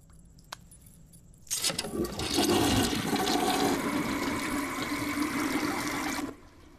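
A toilet in a bathroom flushes with a loud rushing surge of water that holds steady for several seconds, then cuts off, heard alone after a faint click.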